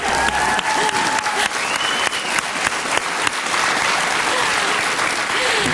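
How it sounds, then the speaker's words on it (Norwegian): Sustained applause from a Norwegian TV talk-show studio audience greets a skier, steady dense clapping filling the room from start to finish with no talk over it. "Stor applaus til Therese Johaug"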